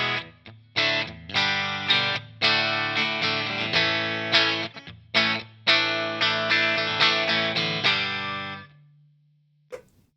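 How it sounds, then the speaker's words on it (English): Clean electric guitar on the bridge pickup, played through a Pod Go modeler: strummed chords and picked notes in bursts with short gaps, ringing out and fading near the end before a brief final tap. "Here's just a regular clean electric guitar tone on the bridge."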